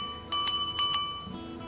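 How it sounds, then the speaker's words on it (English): A bicycle-style bell rung in two quick double dings, bright and close, with a faint rustle trailing after. "So he used his bell to wake everyone up."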